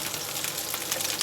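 Broccoli and peppers hit a hot pan and sizzle steadily, a dense, close frying hiss with no talking.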